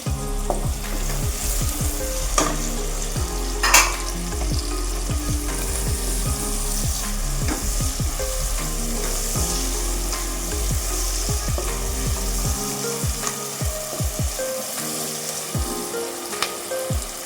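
Sliced onions and green chillies frying in oil in a pot for cooker ghee biryani, a loud continuous sizzle with crackling pops and occasional stirring, steady throughout.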